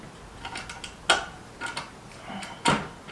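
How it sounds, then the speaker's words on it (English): Metallic clicks and ratcheting ticks come from a wrench loosening the clamp bolts on a scooter fork, arriving in short clustered bursts with a few sharper snaps, close and moderately loud. "I'm gonna loosen these clamp bolts so I can take it off of my fork."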